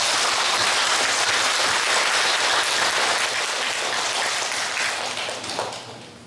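Audience applause after a Buddhist monk's dharma talk, a dense steady wash of many hands clapping that fades toward the end.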